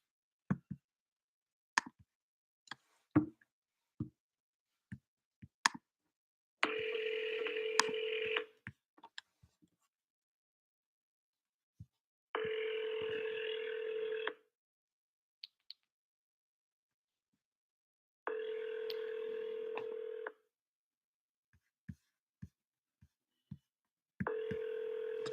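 An outgoing phone call on a real estate lead follow-up: quick keypad taps and clicks, then four evenly spaced ringback tones, each lasting about two seconds with silent gaps between, clear and moderately loud.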